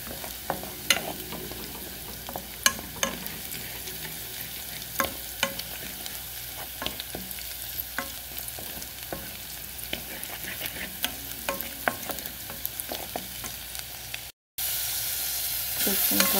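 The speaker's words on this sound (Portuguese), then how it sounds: "eu vou refogar a cebola e o alho" Onion and garlic sautéing in a pan, with a constant soft sizzle and frequent light scraping stirs of a utensil, close and fairly quiet, with no talking.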